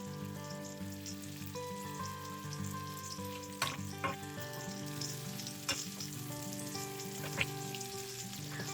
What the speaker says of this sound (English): Stir the sausage for a few minutes to cook evenly.